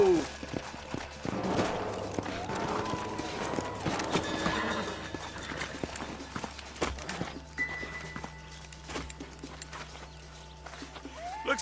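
Horse hooves in the Red Dead Redemption western game beat in an uneven run of clopping steps, close and fairly loud, mixed with other game effects and brief voice sounds.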